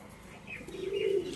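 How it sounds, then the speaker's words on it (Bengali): A male Giribaz pigeon of the fulshira type coos nearby: a low, throaty call that swells in the second half. No voices accompany it. "ফুলশিরা টাইপের গিরিবাজ নর পায়রা"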